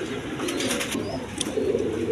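Pairs of pigeons at a market stall, including Indian Bombai birds, coo in a low continuous burble, close by, with a few faint higher clicks over the top.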